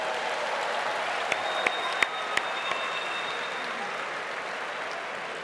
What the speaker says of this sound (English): Give your neighbor a round of applause.